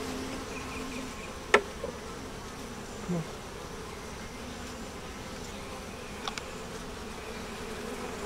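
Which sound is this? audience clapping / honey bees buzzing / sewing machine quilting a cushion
honey bees buzzing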